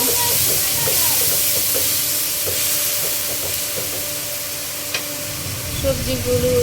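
Turmeric, coriander and chili powder sauté in hot oil with a constant hissing sizzle, broken by occasional scrapes and taps of a spoon stirring the pan close by.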